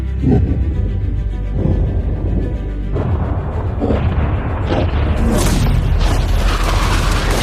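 A yacht being blown up after a countdown: a loud, sustained boom and rumble fills the whole stretch, with debris-like crackle and a brighter burst building in the second half.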